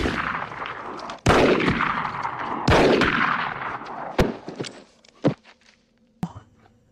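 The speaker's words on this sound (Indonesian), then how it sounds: "dia kemudian menembak tubuh Moku berkali-kali hingga Moku mati seketika itu juga" Two loud gunshots from the 1992 film El Mariachi ring out with echoing tails, followed by several sharper, quieter shots and thuds spaced irregularly as the scene fades to silence.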